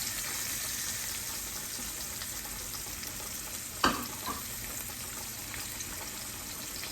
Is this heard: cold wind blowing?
no